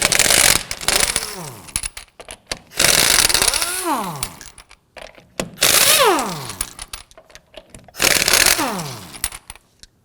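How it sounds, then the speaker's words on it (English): Impact wrench with a 19mm socket loosening lug nuts on a 2008-2011 Ford Focus, four loud bursts of whirring rattle, each winding down with a falling pitch, separated by short gaps. "Now we're going to use our 19mm socket to loosen and remove the lug nuts."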